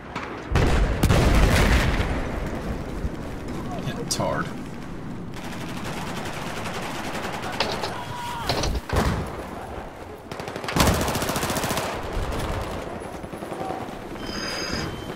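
Gunfire in the video game Battlefield 4, loud rapid bursts and automatic fire with heavy booms running almost continuously, with a player talking over the action.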